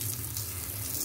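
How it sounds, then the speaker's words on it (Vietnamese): Water gushes steadily from a garden hose onto a potted ornamental plant, a close, constant splashing rush with no voices. "cả nhà dùng cái vòi nước vặn cho nó"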